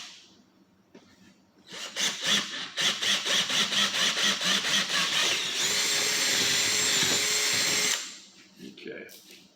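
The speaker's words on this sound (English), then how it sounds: "let's get our 3/4 inch hole drilled here in the center" A power drill boring a 3/4 inch hole through the center of a piece during a blind fastener installation, running loud and steady for several seconds, with a few short starts and a brief pause before a sustained run that then winds down.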